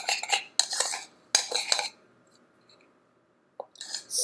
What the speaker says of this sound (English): I'm going to mix it in again.